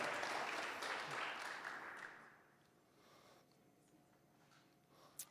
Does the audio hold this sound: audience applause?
yes